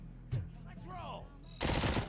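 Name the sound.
gunfire from the video game RoboCop Rogue City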